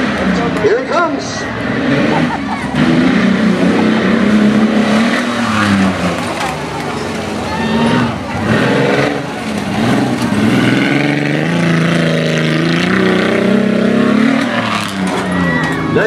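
A Tuff Trucks off-road truck, number 31, runs a dirt obstacle course with jumps at a Labor Day festival, its engine revving and rising in loud sustained bursts across the run while an announcer talks over it.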